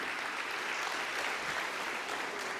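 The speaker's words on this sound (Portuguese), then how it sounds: "Olha, aplaudir para a glória dele." A church congregation claps during a wedding vow renewal service, giving dense, continuous applause at an even, fairly loud level throughout.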